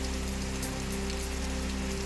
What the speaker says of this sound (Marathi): रत्नागिरीत दमदार पाऊस।